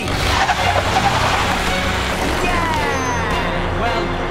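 Lofty, a cartoon crane, drives forward gently. A steady engine rumble and a tire-like hiss carry on throughout, loud and close, with voices talking over it.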